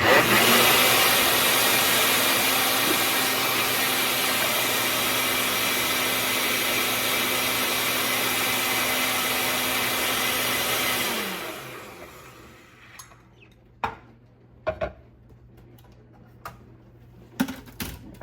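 A glucomannan and xanthan gum mixture is blended with a motor-driven mixer that whirs loudly and steadily for about eleven seconds, then winds down, followed by a few scattered clicks and taps.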